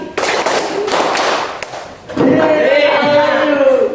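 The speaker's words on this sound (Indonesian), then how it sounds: "tepuk 4 kali." Four quick hand claps from a classroom group ring out up close, followed by a burst of several voices talking and calling out together.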